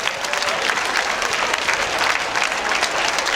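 A dense, steady burst of applause fills the space at a dance marathon event, loud and continuous throughout with no voices on top.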